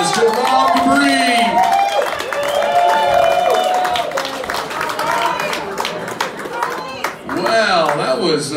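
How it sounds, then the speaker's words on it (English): Comedy club audience at Casey's in Whitefish cheering and clapping as a comedian is welcomed on, a loud, dense crowd roar with scattered whoops and voices, swelling and dipping briefly near the end before rising again. "give a big round of applause to Rob Dupree"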